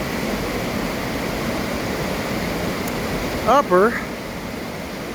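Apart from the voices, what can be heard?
waterfall cascade, Little Lewis River Falls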